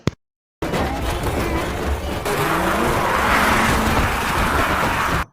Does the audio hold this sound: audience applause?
no